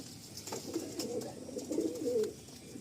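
Madrasi pigeons coo softly in a low, rolling murmur, with several close cooing phrases over a faint background.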